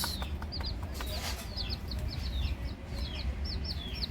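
A hen and her chicks make repeated high, thin peeps in quick succession, with soft low clucks beneath and a steady background hum.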